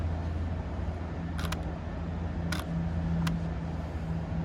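A Nikon D850 DSLR fitted for pinhole photography fires its shutter several times, sharp brief clicks spaced apart, against a steady hum and rush of moving water nearby.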